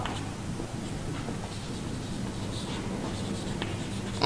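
Pen or pencil writing on paper during a maths lesson on polygons, a soft continuous scratching with light strokes, quiet and close, with no talking.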